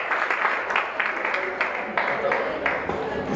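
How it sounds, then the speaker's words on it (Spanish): A church congregation applauds in praise, a loose, moderately loud patter of clapping with rhythmic surges, mixed with voices. "Le damos un aplauso al Señor por la vida de nuestro pastor"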